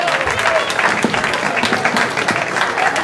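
Steady, dense applause from a crowd at a rally race prize ceremony at the Trofeo Città di Sambatello, honoring a class and group winner, continuous and fairly close with a voice speaking over it.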